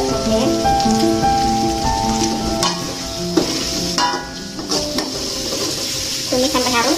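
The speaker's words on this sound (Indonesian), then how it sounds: "Tumis sampai harum" Lemongrass, bay leaves and torn lime leaves sautéing with spice paste for goat tongseng, a steady crackling sizzle with stirring under musical tones, continuous and close.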